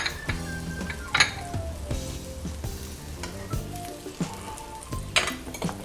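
Butter fries in a hot frying pan, with a steady crackling sizzle running throughout, joined by occasional clinks of a utensil against the pan, close by.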